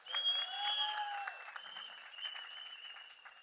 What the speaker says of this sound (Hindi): तालियां बजाइए अपने भारत के लिए।